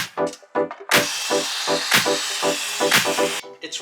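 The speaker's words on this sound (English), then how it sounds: "so I'm gonna do it with my jigsaw" Jigsaw blade chattering through a thick 2x12 wooden board: a loud, buzzing cut with a steady rapid rhythm and sharp periodic peaks.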